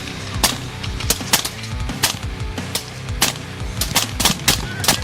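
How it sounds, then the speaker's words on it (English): Rifle gunfire erupts during a night hunt on a herd of wild hogs in Texas farm fields, a rapid, irregular string of sharp loud cracks from several shooters, some overlapping, with no talking. "In the next instant, the night erupted with a storm of gunfire."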